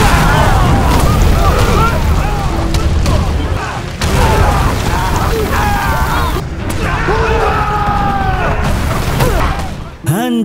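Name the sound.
huge cannon shells exploding, battle sound effect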